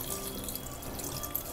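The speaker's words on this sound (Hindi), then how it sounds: "अब मैं इसमें पानी डाल देती हूँ।" Water poured from a tap or jug into a pot of soaked chickpeas with a spoon of oil for chana masala, a steady close rush of running liquid throughout with no voices.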